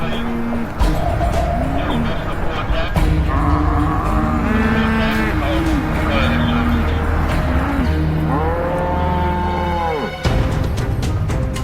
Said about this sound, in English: Cows running around.